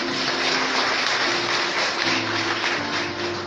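A church congregation claps together in a dense, steady wash of applause that holds at an even, fairly loud level throughout, with a faint tonal hum underneath.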